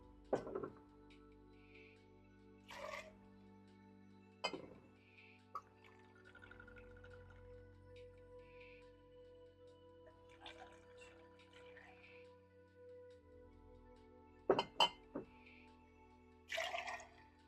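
Apple brandy being measured and poured into a cup, heard as faint trickles and drips with a few sharper clinks of glass spread through a quiet stretch.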